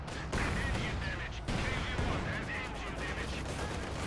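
Gunfire and grenade blasts from anti-tank grenades thrown during a Company of Heroes 2 battle, a steady dense barrage of dull bursts with two sharper hits, under a continuous noisy war-game mix.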